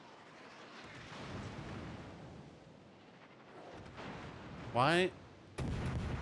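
Big guns boom in a naval battle game, heavy low blasts rolling under a voice, followed by a rising whistling shell sound and another loud burst near the end.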